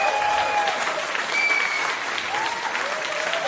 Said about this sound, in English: We'll give you and Vicky a round of applause.